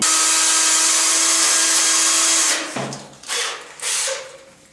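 A high, steady drill whine runs for a couple of seconds, then cuts off, followed by a few shorter bursts of drilling into ceramic tile in a bathroom.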